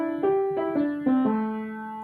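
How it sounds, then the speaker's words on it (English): A single voice sings a minor pentatonic scale, four sustained, clearly pitched notes stepping one after another without words, close and moderately loud. "Now here's the sound of a minor pentatonic scale."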